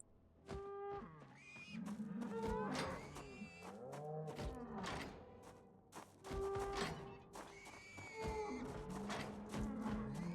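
Cows mooing in a video game, several drawn-out lowing calls overlapping at moderate distance, mixed with thumps and taps from the game.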